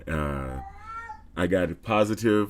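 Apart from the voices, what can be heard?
cat meowing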